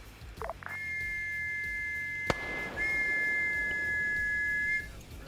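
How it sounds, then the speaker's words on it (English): Two sustained whistle blasts signal a charge during a Rhodesian campaign military game, steady and piercing, broken by a sharp click midway. "They're whistling a charge."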